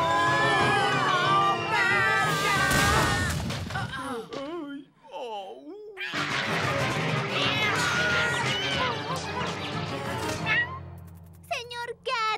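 Cartoon cat from the animated series Kid vs. Kat meows repeatedly in rising and falling wails, mixed with animated character voices and a brief gap of quiet.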